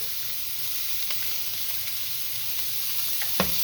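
An onion, pepper and garlic mixture sizzles and fries with potatoes in a hot pan, a steady close hiss that runs throughout, with faint stirring clicks and one sharper scrape near the end.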